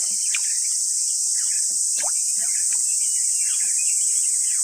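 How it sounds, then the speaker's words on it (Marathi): Crickets chirp in a loud, constant high-pitched drone, with a few faint scattered calls underneath and no one talking. "आणि रातकिड्यांचा आवाज बघा, खूप आवाज येतो रातकिड्यांचा"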